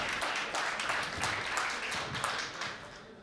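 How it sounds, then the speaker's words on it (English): An audience at a tech conference stage applauds as a speaker comes on, with a fairly faint, steady patter of clapping that slowly fades toward the end. "a warm hand of applause for this man"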